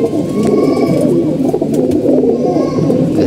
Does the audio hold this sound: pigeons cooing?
yes